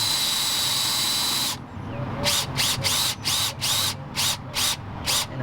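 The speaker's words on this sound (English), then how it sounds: "Now I'm pretty much done with the drilling." A power drill bores out a head bolt hole in a 2003 Toyota Highlander 2.4L engine, running in a long steady burst, then in a series of short stop-start pulses, close and loud.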